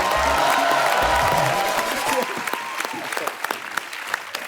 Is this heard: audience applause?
yes